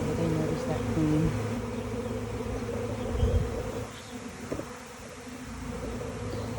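Dense, steady droning buzz of a honeybee swarm gathered around a hive during a spring inspection, continuous and close with low hum throughout, a brief thump midway, and faint human voice traces.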